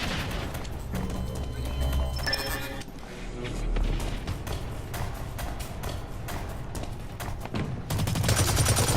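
Assault rifle fire in Blacklight Retribution on PS4 comes as rapid bursts of sharp cracks, layered with other busy game effects, with brief pauses between volleys.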